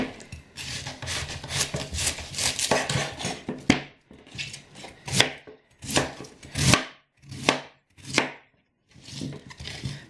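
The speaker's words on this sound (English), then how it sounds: "I just shredded up one cabbage." Cabbage shredded for sauerkraut with repeated rasping strokes, fast and continuous at first, then slower separate swipes with short pauses, close and fairly loud with no speech.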